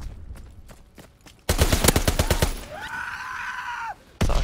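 Gunfire in Call of Duty WW2 comes as a quick run of sharp shots, then a dense loud burst of rapid fire, a ringing pause, and a final loud blast, close and forceful.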